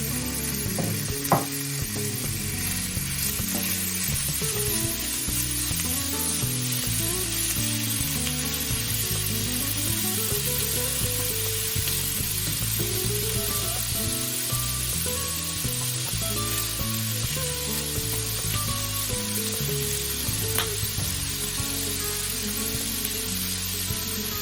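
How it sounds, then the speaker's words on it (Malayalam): Fatty pork skin, cut with its fat still on, sizzles and fries in a heated pan for a Kerala-style pork roast, a steady dense crackle running throughout with occasional clinks, no talking. "നേരത്തെ മുറിച്ച് വെച്ചിട്ടുള്ള നെയ്യോട് കൂടിയിട്ടുള്ള തൊലി ചൂടാക്കിയ പാനിലേക്ക് ഇട്ട് കൊടുക്കുക"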